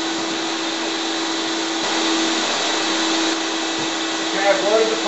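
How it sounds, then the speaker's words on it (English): A shop vacuum running on a ShopBot CNC router in a furniture maker's workshop, a loud, steady whooshing roar with a constant whine that continues without a break. "Turn on my vacuum."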